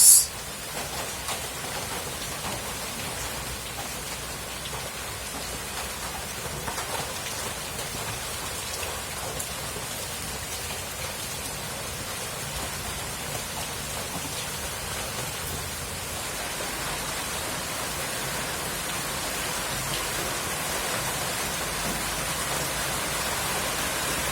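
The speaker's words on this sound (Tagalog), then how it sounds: "Pero ang lakas pa rin ng ulan." Steady heavy rain from a typhoon pouring down, a dense continuous hiss of drops on surfaces that holds for the whole stretch with no voices.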